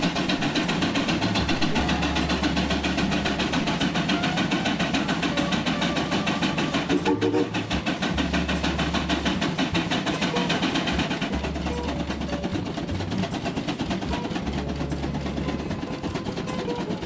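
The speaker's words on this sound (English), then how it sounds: "Here we have a steam traction engine on the dyno." A steam traction engine chugs steadily under load on a dynamometer, with rhythmic low thumps and mechanical clatter continuing loudly and evenly throughout.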